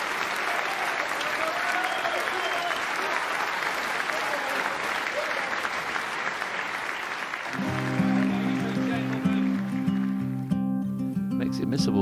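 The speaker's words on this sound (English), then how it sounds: "A standing ovation from this Newport Centre crowd." Sustained applause from a snooker crowd at the Newport Centre giving a standing ovation to the Welsh Open champion, broad and steady throughout, with a commentator's voice and music rising over it in the final seconds.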